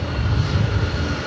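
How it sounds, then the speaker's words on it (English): Embraer Phenom 300 business jet of NetJets arriving at LAX, heard as a steady broadband engine roar with a low rumble, loud and continuous through the short stretch. "The next arrival is NetJets, flight 446, coming to from Minden. It's an Embraer Phenom 300."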